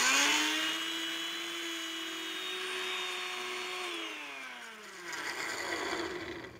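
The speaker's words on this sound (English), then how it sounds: "When you whip cream in a blender" Countertop blender whipping heavy cream with a drizzle of vanilla, a loud steady motor whine that holds its pitch for several seconds, then drops in pitch as the cream thickens and loads the blades.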